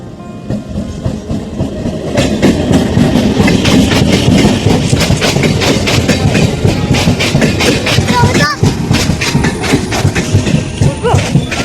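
A local train at a station rumbles and clatters loudly, with rhythmic clicks over a busy platform din and scattered voices in the background.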